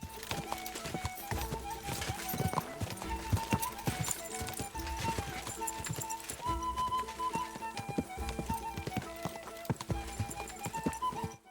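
Rapid, rhythmic hoofbeats of a galloping horse in the video game Kingdom Come: Deliverance II drum steadily throughout, with a musical backdrop and an occasional whinny.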